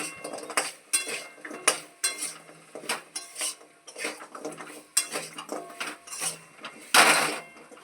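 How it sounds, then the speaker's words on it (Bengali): A wheat and sugar-syrup mixture stirred in a metal pot, a spoon repeatedly scraping and clinking against the sides in a quick, uneven rhythm, close and fairly loud. "এই তো রসটা আমার হয়ে গেছে এরপরে এইগুলো দিয়ে দিচ্ছি দিয়ে একটু নাড়াচাড়া করছি ভালো করে"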